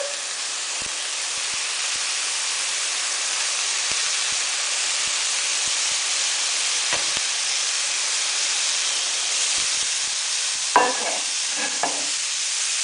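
Meatballs fry in a pan of cabbage rice, a steady broad hiss of sizzling oil running throughout, with a few faint clicks and a brief clatter near the end; a voice speaks one short word.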